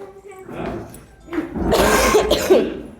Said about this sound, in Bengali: বাপরে কাশি হচ্ছে কত